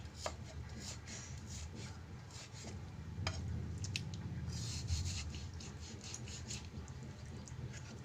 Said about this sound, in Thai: นี่เราก็กำลังหั่นหมูอยู่นะคะ